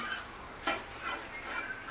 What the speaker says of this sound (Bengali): এবার আমি ক্যাপসিকামটাকে ভালো করে মশলার সাথে একটু হালকা করে ভেজে নেব